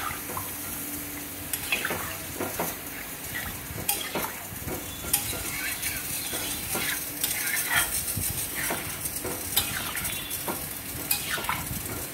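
Water splashes into a pan of sizzling fish tok with potato, eggplant, taro and bori, followed by steady bubbling, frying hiss and stirring scrapes throughout.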